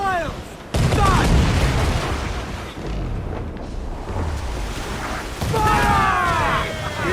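Ship cannons in Assassin's Creed Black Flag fire in loud close booming volleys that open abruptly with sharp cracks, roll on as a crackling rumble, then return in a second heavy blast, with shouted crew voices over them.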